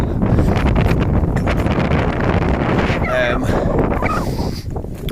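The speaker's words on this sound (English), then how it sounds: "It's actually cleared up a little bit. Windy still." Steady wind buffets the microphone on a morning jog around Largs, a loud rushing roar that barely lets up, with a brief fluttering gust near the end.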